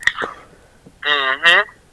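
A phone rings with an incoming call during a casual podcast conversation: two loud, buzzy electronic ring bursts in close succession, preceded by a brief voice-like sound.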